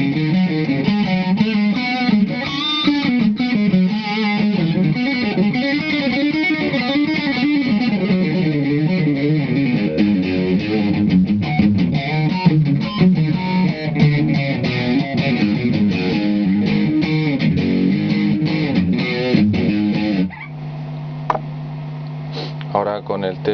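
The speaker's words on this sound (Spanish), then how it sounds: "Veamos cómo suena con pura distorsión." An electric guitar plays through heavy distortion on the bridge pickup. It gives a continuous run of gritty notes and chords for about twenty seconds, ending on a held, sustained chord.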